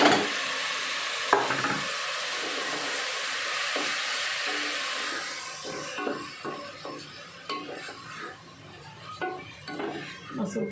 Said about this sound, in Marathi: अद्रक, कांदा, टमाटर, लसूण सर्व भाजायला घेतले.